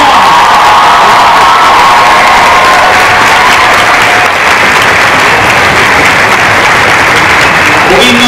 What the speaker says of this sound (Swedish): Varm applåd för våran vinnare i Cosplay SM 2014